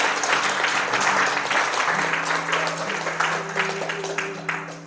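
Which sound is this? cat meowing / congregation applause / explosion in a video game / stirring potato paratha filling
congregation applause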